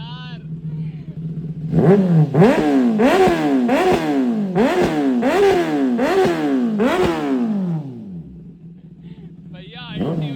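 Kawasaki ZX10R motorcycle with an Arrow full exhaust system revving hard, a string of about seven sharp throttle blips climbing and falling in quick rhythm over a steady idle, loud and close, then settling back to idle.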